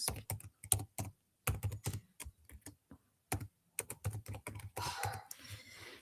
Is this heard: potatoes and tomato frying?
no